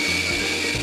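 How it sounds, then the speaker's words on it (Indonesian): An electric blender whirs steadily, grinding curry spice paste with cooking oil, a loud continuous motor drone with no talking. "Lalu kita proses sampai halus ya, kita blender sampai halus ya teman-teman."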